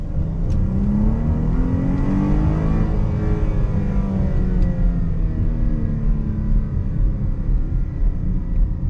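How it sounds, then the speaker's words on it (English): A Chrysler 300 accelerating hard in a pull, a loud steady engine roar rising in pitch, easing off briefly, then climbing again, heard from inside the car with no talk. "we're gonna be doing random pulls pretty much anywhere we can"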